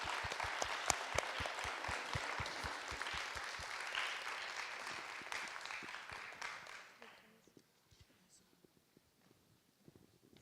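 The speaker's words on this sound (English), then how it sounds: "Can we do one more round of applause for these storytellers?" Audience applause for storytellers at a live community event, a dense sustained clapping that fills the room and then thins to a few scattered claps and quiet before the end.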